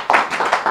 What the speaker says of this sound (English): So let's give a big round of applause to him.